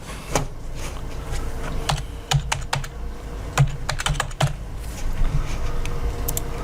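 Fingers tap away at a computer keyboard in irregular bursts, the crisp close-up key clicks clustering and pausing over a quiet room, without any talking.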